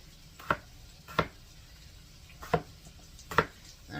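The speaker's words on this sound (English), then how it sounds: "So I'm going to keep chopping these up." A knife chops potatoes and hot dogs on a board, four sharp, separate thuds at an uneven pace, close and fairly quiet, with no talk.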